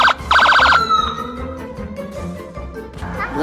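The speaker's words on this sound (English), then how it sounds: "Oh wow, a police car." Police car siren in a city street in Scotland, a loud wailing tone with rapid warbling bursts at first, then a sweeping wail fading back under traffic noise.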